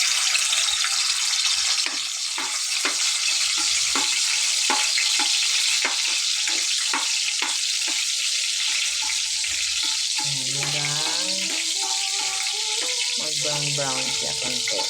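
Garlic frying in a pan while pitsay is being cooked, a steady sizzle throughout with stirring clatters and scrapes, and speech with a musical tone coming in near the end.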